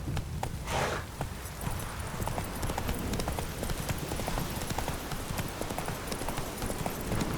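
Roach, a horse in The Witcher 3, clip-clops along at a steady walking rhythm, hooves close and clear over a constant ambient background.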